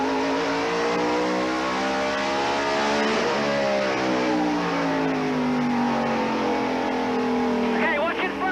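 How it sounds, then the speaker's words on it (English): A NASCAR stock car at the 1995 Hanes 500, heard from the in-car camera, roars with a loud, continuous engine note whose pitch sweeps up and down as it shifts and accelerates around the track. "Let's go to more Michael Waltrip's in-car camera and listen."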